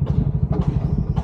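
Bajaj Maxima Z CNG 2025 three-wheeler engine running close by with a fast, steady, throbbing putter, loud and rough, with no clear rise in pitch.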